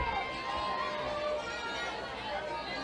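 A stadium crowd filing in at a women's college softball game in Starkville makes a low, steady murmur of distant chatter, faint and continuous with a few scattered voices.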